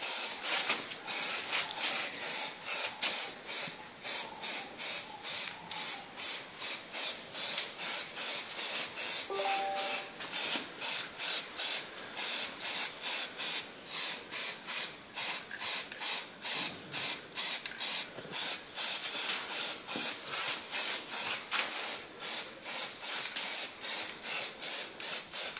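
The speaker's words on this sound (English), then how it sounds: "We now start the fourth coat whilst the third coat is still shining and pretty wet in order to get the best quality gloss finish." Foliatec spray film applied as a fourth gloss coat from an aerosol can, a continuous hiss broken into rapid regular pulses throughout, steady and fairly close, with no voices.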